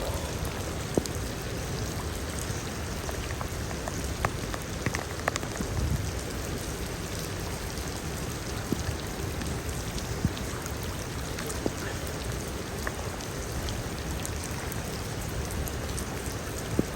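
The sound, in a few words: heavy rain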